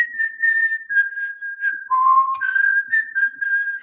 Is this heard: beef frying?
no